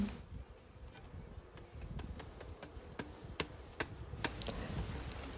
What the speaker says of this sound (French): c'est la même chose, beaucoup d'abeilles aussi